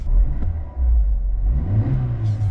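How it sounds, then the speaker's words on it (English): An abandoned Renault 5 GT Turbo engine revs up close and loud, a throaty car engine climbing and settling with a steady low rumble. "She revs nice."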